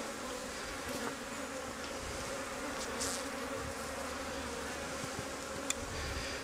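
Honey bees buzz steadily around an opened Flow Hive during a vertical split, a dense continuous drone with individual insects passing close now and then.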